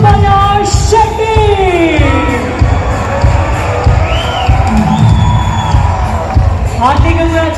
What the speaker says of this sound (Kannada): Everybody, let's make a bigger noise and let's welcome Mr. Subhash Shetty.